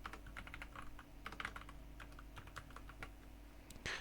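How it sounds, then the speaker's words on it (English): Rapid keystrokes on a computer keyboard while entering code for a PHP and MySQL web application, irregular clicks in short bursts, close and fairly quiet, with no talking. "we'll type out record deleted successfully"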